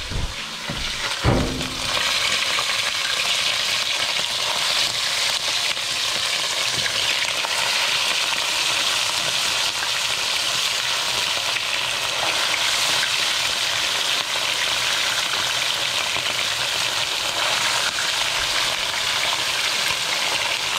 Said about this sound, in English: Watch the sizzle.